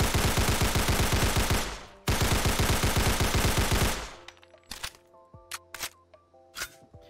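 Sten submachine gun from a Fallout 4 mod firing unsuppressed in two loud, rapid full-auto bursts of about two seconds each, followed by quieter mechanical clicks and clacks of handling.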